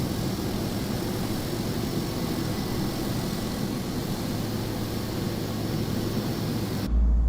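Airliner taxiing in Microsoft Flight Simulator 2024, a steady, droning jet engine rumble with a broad hiss, constant and close throughout before cutting off abruptly at the end.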